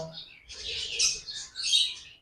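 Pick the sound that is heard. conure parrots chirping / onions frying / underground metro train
conure parrots chirping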